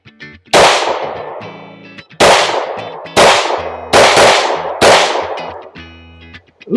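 A factory-compensated Glock 19C Gen 4 pistol fires five sharp, loud shots at uneven intervals outdoors, each crack followed by a ringing echo that fades before the next.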